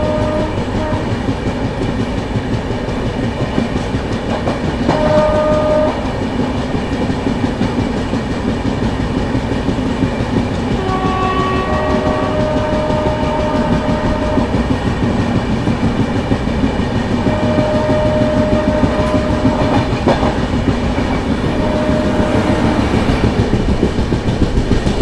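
The 12016 Ajmer–New Delhi Shatabdi Express rumbles loudly and steadily along the rails, heard from on board, with a constant roar, faint rhythmic clatter and occasional distant horn-like tones.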